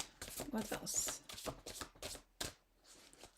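Quick riffling and soft slaps of tarot cards being shuffled close by, a rapid series of papery flicks with brief pauses.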